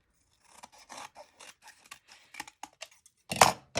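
Scissors snip repeatedly through craft material, a quick, close, uneven series of sharp cuts heard alone, ending in a louder, longer snip.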